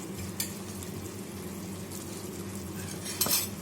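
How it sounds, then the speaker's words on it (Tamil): Mysore pak mixture being stirred with ghee in a pan: a steady soft sizzle and scraping of a utensil through the thick mixture, close and continuous, with a couple of brief louder clinks against the pan. "இப்போ நல்லா மிக்ஸ் பண்ணிடுவோம் திரும்பவும்."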